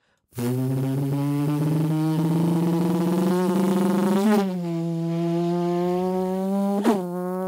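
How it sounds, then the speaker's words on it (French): An added motorcycle sound effect, roughly seven seconds long, gives a loud continuous engine drone that climbs steadily in pitch, dips briefly, then carries on and ends with a sharp revving burst. "on va se mettre un petit véhicule type moto, par exemple"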